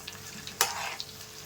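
Chicken pakodi frying in hot oil, a close, steady sizzle broken by a brief stirring scrape and a few small pops.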